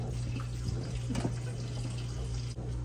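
Tap water runs steadily into a kitchen sink while fresh produce is rinsed under the stream, a constant close splashing flow with a low hum beneath it and no talking.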